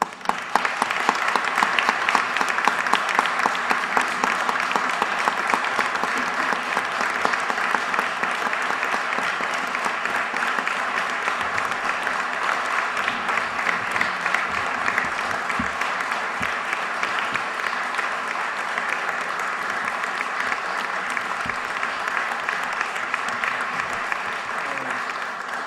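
A large audience at a Yonkers Vietnam veterans recognition ceremony applauds the veterans: dense, sustained clapping that stays loud and even for the whole stretch.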